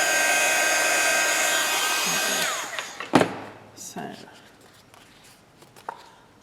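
A heat tool blows hot air over a craft card, giving a steady loud whirring hiss that cuts off abruptly midway. Quieter handling knocks and a voice follow.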